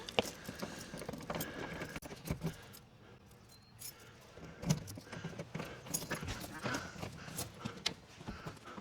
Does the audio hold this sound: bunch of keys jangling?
yes